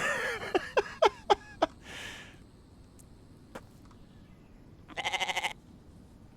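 Goat bleats in the survival game The Infected: a quick run of five sharp, close calls, then a rustle, a single click, and a longer wavering bleat near the end, with no talk.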